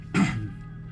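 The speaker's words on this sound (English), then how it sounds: "Sorry to keep clearing my throat." A man clears his throat once, a short rough rasp that is close and fairly loud, then fades into a quiet room.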